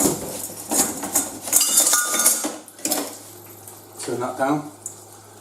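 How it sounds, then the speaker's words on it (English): Metal pots and pans clatter and scrape as cooked vegetables are drained in a home kitchen, with sharp clinks and knocks at close range, mixed with splashing and brief speech. "now I'm going to drain off my vegetables"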